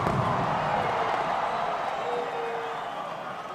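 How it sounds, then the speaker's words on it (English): A stadium crowd roars during a rugby league match at BSP Stadium, a steady, distant wash of cheering that holds without any distinct bangs. "the crowd really going berserk this evening with the fireworks happening right here at the BSP Stadium"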